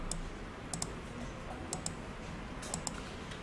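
Computer mouse clicking on a chart line in an Excel spreadsheet: a few sharp, faint clicks spaced irregularly, some in quick pairs, over a steady low room hiss.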